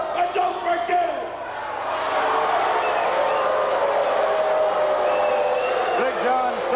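A capacity arena crowd at a 1984 pro wrestling event jeering Big John Studd after his win, a broad, sustained roar of voices that swells and holds steady.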